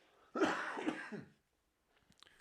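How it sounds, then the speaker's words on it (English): A single harsh, close cough lasting about a second, followed by quiet and a few faint rustles. "I got a cough."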